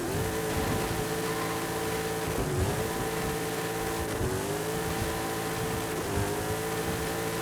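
A car revving hard in first gear to lift into a wheelie in Forza Horizon 5, with the engine note holding a sustained high drone that dips and climbs as it shifts and strains, loud and alone.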